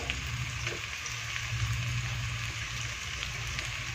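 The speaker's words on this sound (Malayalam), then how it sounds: "ചുവന്നുള്ളി വാടി വരുന്നുണ്ട് അപ്പം നമുക്കിതിലേക്ക് ഒരു സ്പൂൺ നെയ്യ് ചേർത്ത് കൊടുക്കാം" Shallots frying in ghee in a pan for a chana dal curry, a steady close sizzle and crackle with faint popping, continuous and even throughout.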